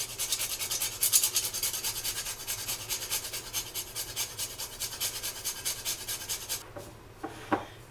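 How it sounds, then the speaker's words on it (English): Whole nutmeg being grated over a bowl of spices for a beef pot roast, a quick rhythmic rasping scrape repeated steadily and close for several seconds, then stopping, followed by a light clink. "Grind a little bit of this nutmeg into it."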